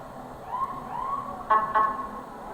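Putnam Valley Fire Department vehicles roll past in a Fourth of July parade, a siren winding up and down moderately loud, then two short horn-like blasts amid outdoor crowd ambience.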